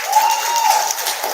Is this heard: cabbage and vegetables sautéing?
no